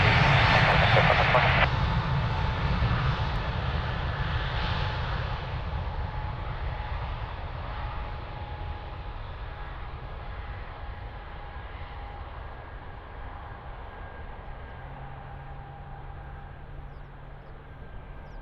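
An airliner takes off at Lisbon Airport, its broad engine roar loudest at first and then slowly fading with a steady whining tone as it climbs away. A brief radio voice speaks early on.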